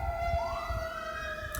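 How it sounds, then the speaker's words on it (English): An emergency vehicle siren wails continuously, its pitch sweeping upward, with a steady low rumble beneath and no voices. "Whenever I hear sirens like that, that's confirmation of what I'm saying."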